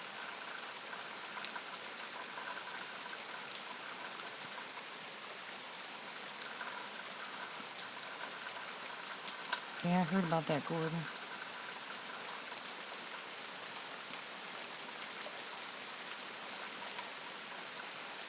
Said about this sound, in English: I'm sitting in my window on the second story of my house, watching and listening to the rain.